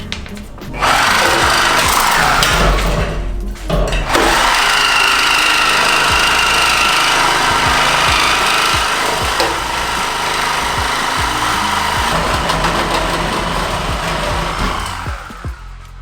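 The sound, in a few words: power tool cutting out the muffler on a Nissan Z31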